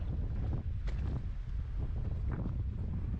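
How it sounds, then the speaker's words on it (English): Strong wind buffeting the microphone on a fishing boat off Grand Isle, Louisiana, a continuous loud low rumble with gusty swells throughout. "if the wind could die down for like an hour, we'd be good"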